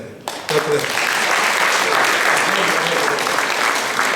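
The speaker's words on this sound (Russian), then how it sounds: "Ваши теплые аплодисменты для нашего сегодняшнего юбиляра" Guests at a jubilee evening honouring a man erupt into applause after a brief quiet start, swelling quickly into steady, full clapping that holds to the end.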